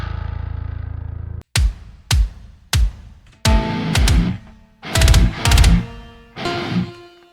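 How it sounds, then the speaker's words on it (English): Heavily distorted electric guitar in A tuning (G tuned up), playing loud palm-muted chugs and sustained power chords with slides, each hit alone with short gaps between bursts. "And then obviously we've got to turn on distortion."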